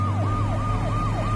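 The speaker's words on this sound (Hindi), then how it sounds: "सायरन बजाती हुई पुलिस की सारी गाड़ियां तेजी से मौकाए वारदात की तरफ बढ़ती जा रही थी।" London police car sirens wail loud and close, their pitch sweeping up and down in a quick, regular repeating cycle over a low engine rumble, with no voices.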